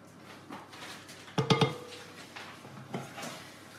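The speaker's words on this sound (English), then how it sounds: "Here's my spatula. I'll just use this. I'll just scrape it all off." A spatula scraping and knocking against a metal baking tray in a home kitchen, a few sharp clanks clustered together followed by lighter scrapes, close and fairly quiet.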